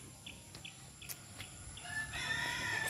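Roosters crow in the distance, several faint calls against rural background hiss, with one growing louder near the end.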